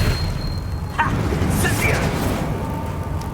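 Expulso explosion spell in Hogwarts Legacy, a dense rumbling blast with a sharp pop near one second and whooshing sparkle bursts after, set against continuous game noise, with a voice shouting briefly.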